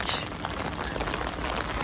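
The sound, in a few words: rain falling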